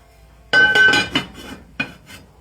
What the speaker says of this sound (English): So I'll put the lid on it.